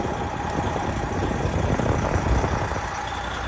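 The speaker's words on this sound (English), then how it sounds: "then you can remove the key and the truck stays running." A Freightliner truck engine idles steadily after a remote start, a continuous low rumble with no voices over it.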